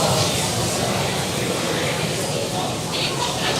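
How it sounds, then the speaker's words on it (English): A SpaceX Falcon 9 first stage reignites a single engine for its landing burn. A steady, broad rushing roar runs unbroken throughout, with voices faintly underneath. "just one single engine reigniting for about 20-30 seconds helps to slow the vehicle down"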